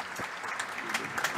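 Audience clapping for panel members at a conference discussion, a short burst of scattered applause with individual claps audible, moderately quiet.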